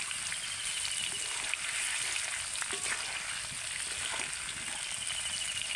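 Raw mango pieces fry in hot oil for a pickle while being stirred, giving a steady, close hiss and crackle with small spoon scrapes and no talking.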